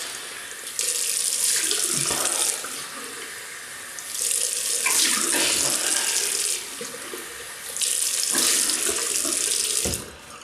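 A tap runs into a sink in three separate bursts of splashing water, each lasting a couple of seconds, as someone rinses off after a shave with a 1960s Schick Krona double-edge razor. Quiet gaps fall between the bursts and no one speaks.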